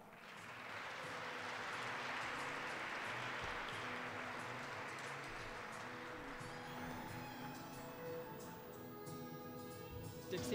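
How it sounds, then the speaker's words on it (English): Audience applause after two performers are introduced on stage, a steady broadband clapping that fills most of the clip with no talk over it, thinning slightly toward the end as music-like tones emerge. "give Mary and Bri a big round of applause"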